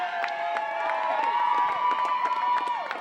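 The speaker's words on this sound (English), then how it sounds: "And now it's Juliana Martin coming off to a big round of applause, number 19." Spectators at a girls' high school soccer match cheer and applaud. The crowd noise is a steady wash with shouting voices on top, heard from a distance across the field.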